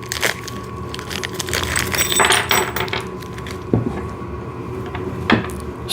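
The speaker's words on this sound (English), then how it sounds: "Let me just get this envelope open." A paper envelope of snow shovel assembly parts is torn and opened close by, a run of rustling crinkles and rips with a couple of sharper cracks.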